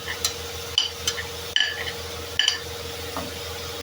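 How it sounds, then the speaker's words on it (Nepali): Fried soybeans being added to a pan of cooked greens, a few sharp scraping stirs and clanks of a utensil against the pan over a faint steady hiss, close by. "यसमा सबैभन्दा पहिला तारेको सोयाबिन राख्दैछु म।"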